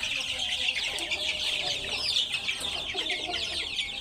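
Farm chickens cluck steadily in a flock, a continuous faint chorus of overlapping clucks and chatter at some distance.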